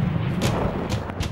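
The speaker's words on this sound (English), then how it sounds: "a volcanic explosion" A volcano erupts in a deep, loud, rumbling roar, with a few heavier booming thuds rolling through the continuous low blast.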